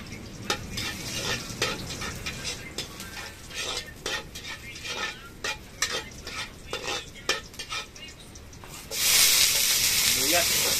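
Garlic frying in a pan while being stirred, with steady sizzling under repeated scrapes and clinks of a utensil, and the sizzle swells louder near the end.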